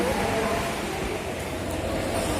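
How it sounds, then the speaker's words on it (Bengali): A train rumbles into a station platform with a loud, continuous roar of wheels and rail noise close at hand, filling the space. "আমাদের ট্রেন চলে এসছে"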